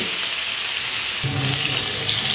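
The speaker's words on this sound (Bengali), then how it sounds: "এখন তেলের সঙ্গে এই ফুলকপিগুলো একটু ভালো করে লাল লাল করে ভেজে নিতে হবে" Cut, washed cauliflower pieces fry in hot oil for an egg-cauliflower dish, giving a continuous loud hiss and sizzle that grows slightly heavier halfway through, with no talk.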